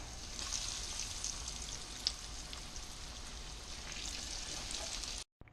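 Pompano fish cooking in a pan: a steady, close, even frying sizzle with occasional small pops and crackles, running continuously before cutting off abruptly near the end.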